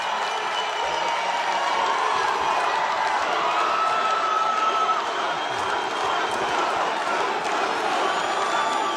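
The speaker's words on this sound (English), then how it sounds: "This is a very rambunctious crowd." Rowdy crowd at an outdoor political rally in Tucson, Arizona, cheering and shouting in a steady, loud roar with scattered whoops and clapping throughout.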